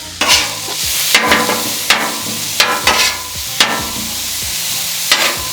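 Skirt steak sears in hot oil with a continuous crackling sizzle, punctuated by repeated sharp scraping and clacking strokes roughly every second, close and loud.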